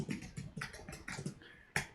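Rapid typing on a computer keyboard, with bursts of clicking keystrokes at an uneven rhythm and short pauses between them, close and moderately loud with no talking.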